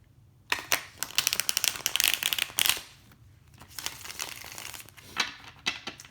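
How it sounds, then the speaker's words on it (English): Tarot cards are shuffled by hand, giving close, crisp riffling and flicking bursts with soft slaps and pauses between rounds, with no talk. "I have already shuffled your cards already, but let's give it a few more goes."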